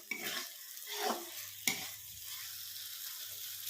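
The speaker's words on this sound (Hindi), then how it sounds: "1 से 2 मिनट तक हाई फ्लेम पे भूनेंगे मसाले को।" Masala for rajma curry frying over a high flame, a soft sizzle with several stirring scrapes and one sharp clink of a utensil against the pan, close and fairly quiet with no talking.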